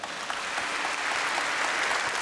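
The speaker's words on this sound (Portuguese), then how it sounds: "Bem-vindos, uma salva de palmas." A church congregation at Mass applauds to welcome visiting groups, a broad, continuous wash of many hands clapping that swells slightly toward the end with no talk over it.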